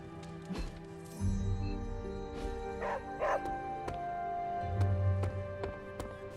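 Dog barking and yipping in the video game Marvel's Midnight Suns, a few short barks and whimpers over a steady background game score, fairly close and moderately loud.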